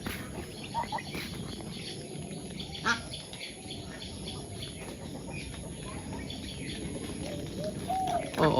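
Village ducks quacking and calling in a rural yard, several short calls scattered among other farm birds over a steady background.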